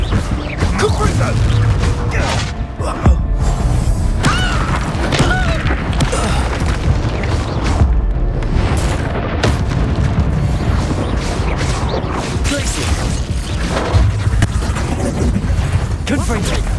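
Repeated Confringo explosion spells fire off in rapid succession during a Hogwarts Legacy battle, a dense, loud barrage of booms and crashes with shouted spell incantations and mechanical clatter layered throughout.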